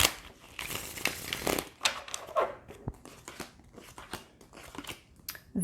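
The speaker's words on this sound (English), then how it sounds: "Last shuffle." Crisp papery riffling and snapping of a tarot deck being shuffled in several quick bursts, close and fairly loud, with soft flicks between them.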